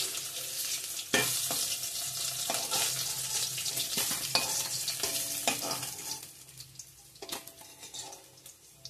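Rohu fish pieces frying in hot oil, a close, loud crackling sizzle broken by sharp clinks of a utensil against the pan, easing to a quieter sizzle toward the end.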